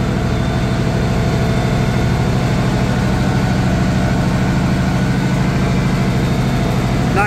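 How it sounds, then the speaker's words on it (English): An International 756 diesel tractor mows rough pasture for hay in low third gear. Its engine gives a loud, continuous low drone with a steady throbbing rumble, close and unbroken throughout. "And I have it on my International 756 diesel."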